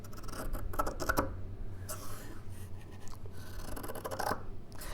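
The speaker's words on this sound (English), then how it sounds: "The sound of really sharp scissors going through fabric." Sharp dressmaking scissors snip through fabric in quick, crisp, scratchy cuts, close to the microphone and fairly soft, in an irregular run of short strokes.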